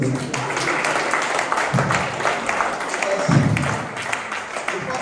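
Applause from the audience at a legal profession mentorship session, a moderate wash of clapping that runs on for several seconds with speech mixed in around it.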